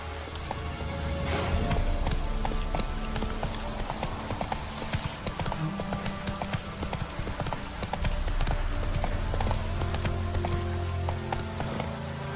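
Horse hooves clip-clop at a steady gallop in the Witcher video game, a continuous rhythmic drumming close up over a dense, rain-like wash of ambient noise, with no voices.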